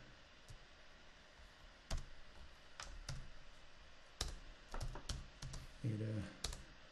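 Computer keyboard typing at close range: scattered, irregular key clicks, some louder than others, with quiet speech in the background.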